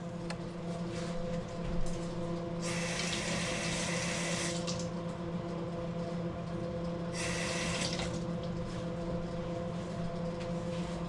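A tap runs water in two bursts, each lasting a couple of seconds, as a sponge is wetted for a soldering iron, heard over a steady background hum.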